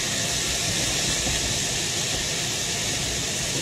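Deep-fried tofu puffs with ginger and onion sizzle in a hot pan, a loud, unbroken frying hiss that fills the whole moment without letup and without any talking.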